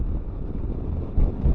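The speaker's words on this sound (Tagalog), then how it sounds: "Napakalakas ng hangin." Strong wind buffets the microphone while riding a KYMCO Xciting S400i maxi scooter on an expressway, a constant loud low roar with gusts swelling near the end and no voices.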